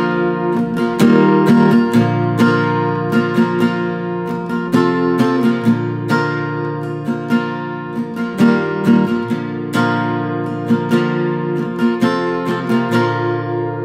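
Acoustic guitar strumming the chords of a song, close and loud, with rhythmic strokes and bass notes in a steady pattern and no voice over it.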